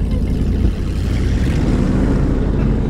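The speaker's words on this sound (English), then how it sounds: "Listen to that exhaust." A stall-prone van engine runs with a low, rumbling exhaust drone that stays loud and steady throughout, with some wind-like noise mixed in and no speech.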